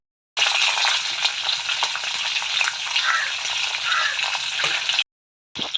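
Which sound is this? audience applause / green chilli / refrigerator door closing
green chilli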